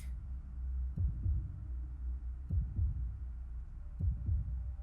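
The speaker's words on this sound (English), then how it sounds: "Heartbeats." A slow heartbeat from the video game Zero Time Dilemma, with four double thumps spaced about every second and a half, deep and close over a steady low hum, with no voices.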